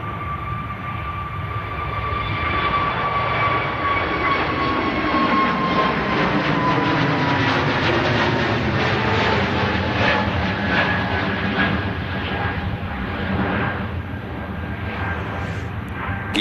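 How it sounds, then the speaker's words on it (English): An EasyJet Airbus A320neo takes off from runway 23R at Manchester Airport, a loud sustained jet engine roar with a whining tone that slowly falls in pitch as it climbs away. "A320 Neo. Just rotating from the surface at 23 right"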